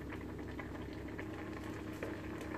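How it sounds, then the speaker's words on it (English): A pot of tomato and basil sauce simmers and reduces on the stove, bubbling and popping steadily at close range in a short stretch with no voices. "I'm just going to let that simmer and reduce down."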